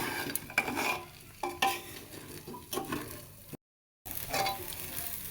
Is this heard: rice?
yes